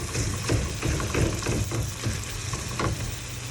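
A pound of ground beef fries in a pan over medium-high heat, giving a steady sizzle with rhythmic scraping and stirring pulses, close and moderately loud, with no talking.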